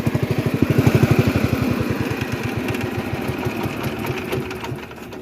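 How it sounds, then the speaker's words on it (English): Tractor engine idling at a ranch, a close, rapid, even chugging pulse that is loudest at the start and then settles into a steady rumble, with rain sounding on the exhaust. "So you can hear the rain hitting the exhaust."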